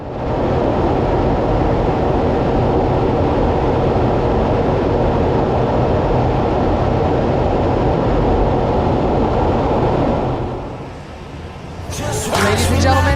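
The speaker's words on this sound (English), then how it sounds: "note just how quiet the aircraft becomes as it passes at nearly 500 miles per hour" An F/A-18 Super Hornet makes an inverted low-power whisper pass at an airshow near 500 mph, a loud sustained broadband rushing roar that fades quickly, followed by a brief voice.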